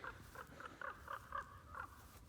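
A bird calls repeatedly in a pasture, a series of short harsh caws at an irregular pace, fairly faint against a quiet outdoor background.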